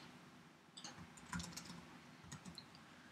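Computer keyboard typing in bursts of quick clicks with short pauses, close and fairly quiet, entering code for a Bootstrap web form.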